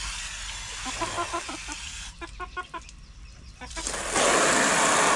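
Chickens cluck in a backyard garden, a series of short, close clucks and calls coming in uneven bursts over a hissing background that grows louder near the end.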